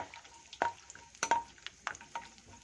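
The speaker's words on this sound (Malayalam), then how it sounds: "ഇനി ഇതിലോട്ട് നമുക്ക് കുറച്ച് കപ്പലണ്ടി, അതും ഇതുപോലെ തന്നെ ഒന്ന് ഫ്രൈ ചെയ്ത് എടുക്കണേ" Peanuts frying in hot oil in a home kitchen, a faint sizzle broken by sharp scraping stirs of a spoon against the pan at uneven intervals.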